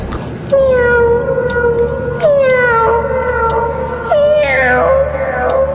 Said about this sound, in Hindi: उसे किट्टी के रोने की आवाज सुनाई दी।